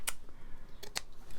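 Scissors snipping through paper embellishment pieces for a pink cherry blossom junk journal, giving a few short, crisp cuts close by with quiet gaps between them.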